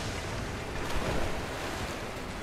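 Steady broadband rush of water in the video game Rise of the Tomb Raider, a continuous wash like surf or a strong current filling the scene at moderate loudness with no break and no voices.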